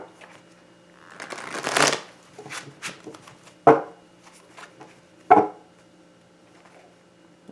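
Oracle cards are shuffled by hand in several bursts of riffling and flicking, with a couple of sharp taps as the deck is squared, close and clear in a quiet room.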